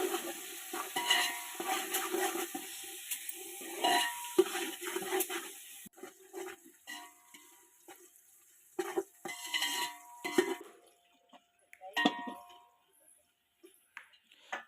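Chicken biryani masala with onions, curry leaves, mint and coriander leaves sautés in a pan: intermittent stirring scrapes and light sizzling, with occasional metallic clinks, close and fairly quiet, fading to sparser strokes later.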